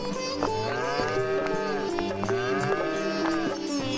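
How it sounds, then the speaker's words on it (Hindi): A pair of bulls bought at a village fair in an animated Hindi story, lowing in long, loud, drawn-out moos that overlap one another with steady farmyard ambience underneath. "उसने 2 बैलों की एक सुंदर जोड़ी खरीदी।"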